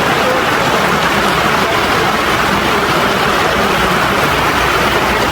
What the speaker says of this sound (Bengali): অমনি আবার গতকালের মতো জল শুরু হয়ে গেল